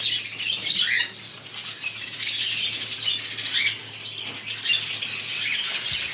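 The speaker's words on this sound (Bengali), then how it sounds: "এবার কিছু বাজরিগার পাখি নিয়েছি রায়ুদার থেকে" A flock of budgerigars chirps and squawks continuously at close range, a busy layer of high, scratchy calls with no talking.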